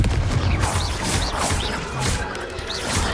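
Confringo blasting spell in Hogwarts Legacy, a rapid run of sharp crashing blasts and cracks, several bursts in quick succession over a rumbling battle din, fairly loud and close, no talk.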